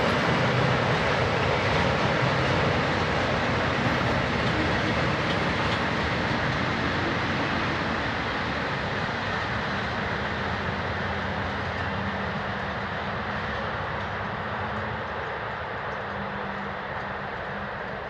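Swiss locomotive 11629 hauling a mixed freight train of wagons for wood and paper factories on the Langenthal to Mensnau line, a steady, loud, continuous rumble and rail roar that fades slightly toward the end.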